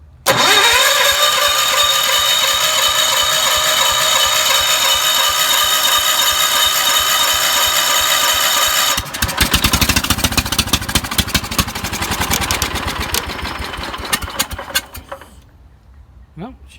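Wheel Horse garden tractor with a freshly rewired starter cranks steadily and loudly for about nine seconds, then a rougher, uneven stretch of turning over as it tries to catch before stopping.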